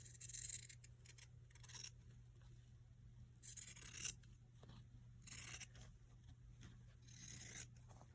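Pinking shears snip through fabric in several crisp, bright cutting bursts, each a second or so long with short pauses between, heard up close over a constant low electrical hum.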